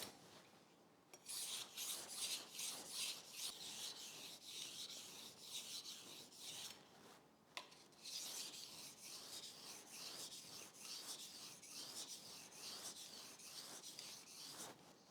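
Kitchen knife being sharpened on a coarse whetstone, steady rhythmic rasping strokes repeating back and forth, close and fairly loud, with two short pauses and no talking.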